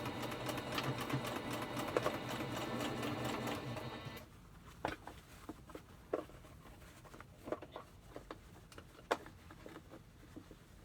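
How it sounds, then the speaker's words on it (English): A sewing machine hums and chatters quickly for about four seconds while stitching a one-piece fabric mask, then stops, followed by scattered light taps and rustling of fabric. "little tricky to do this on the sewing machine"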